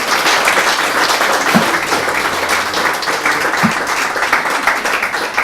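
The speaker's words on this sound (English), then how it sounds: "round of applause for Paul O'Mahony and Lucy Hyland" An audience applauds at a live talks event, a dense, steady clapping that fills the room at close range for several seconds with no voices over it.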